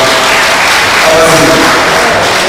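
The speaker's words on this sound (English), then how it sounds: "So give me a round of applause." An audience at a Northwest Manchester constituency conference gives a round of applause, a dense, continuous wash of clapping that stays loud and steady throughout, with no speech over it.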